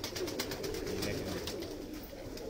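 Pigeons at a breeder's loft cooing in low, continuous murmurs, a steady soft backdrop of overlapping coos close by with no talk.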